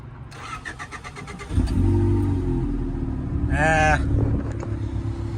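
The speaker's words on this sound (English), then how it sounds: "you can tell how she had a little bit of hesitation starting" A Honda CRX engine cranks briefly, hesitates and then catches, settling into a loud, steady idle with a rising rev partway through; no one speaks.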